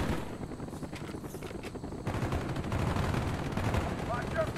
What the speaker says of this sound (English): Why run in front of all the gunfire?